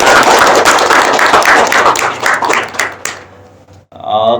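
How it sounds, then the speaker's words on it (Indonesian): Audience applause at a school talk show with vocational high school students, dense clapping loud for about three seconds then thinning out, with a voice briefly speaking at the end. "Wah, tepuk tangan."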